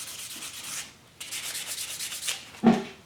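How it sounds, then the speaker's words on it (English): Sandpaper rubbing against a hard surface, in close, steady back-and-forth strokes that pause briefly and then resume, ending with a louder scrape. "let's go ahead and sand and polish this"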